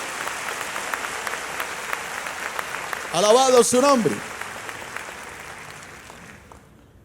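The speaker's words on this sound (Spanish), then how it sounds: "dale un aplauso a Dios" A church congregation claps for God during a sermon, a steady crowd applause running throughout while a voice speaks briefly over it midway, the clapping fading softly toward the end.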